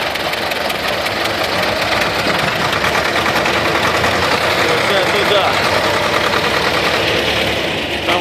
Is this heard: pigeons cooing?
no